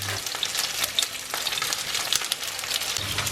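Large salmon pieces sizzle and fry in a big pan while a maple glaze is stirred alongside, a steady close crackle with light scraping stir sounds and no voices.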